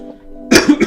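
A single person coughs harshly two or three times in quick succession, close and loud, after a brief quiet moment.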